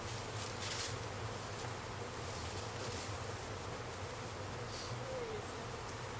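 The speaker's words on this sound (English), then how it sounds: "these bees that's left will go back" Bees buzz around a hive site outdoors, a steady dense hum that holds at an even level throughout, with no voices over it.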